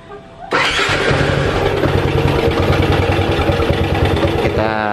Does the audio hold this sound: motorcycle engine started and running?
yes